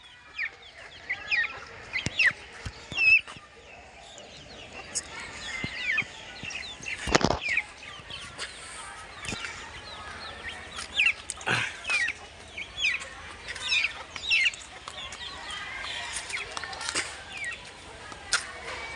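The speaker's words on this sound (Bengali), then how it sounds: "মুরগির বাচ্চা ঘুরতে আইছে আমার সাথে" Chicks and hens cluck and peep nearby at an outdoor spot, with repeated soft clucks and occasional wing flutters, loud bursts at times.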